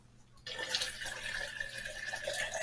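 Cold water pours into a pot in a sudden, steady gushing stream that starts abruptly and keeps running, close and fairly loud, with no voices.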